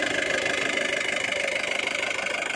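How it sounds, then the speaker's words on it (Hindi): A modified Jeep Willys engine idles steadily with the bonnet open, a close, even mechanical rumble with a slight knocking texture and no talk over it. "काफ़ी अच्छी साउंड आ रही है इंजन की।"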